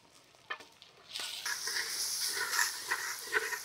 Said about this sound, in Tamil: இப்போ நம்ம தக்காளியும் பச்சை மிளகாயும் சேர்த்து போட போகிறோம்.